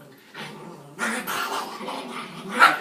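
A dog growls and whimpers while being petted, a low rumbling that swells toward the end, heard up close with little else around it.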